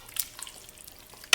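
A spoon scrapes and clinks through a creamy lemon sauce with lamb fricassee and lettuce, making a few soft wet stirring sounds and a sharper clink at the end, close and quiet.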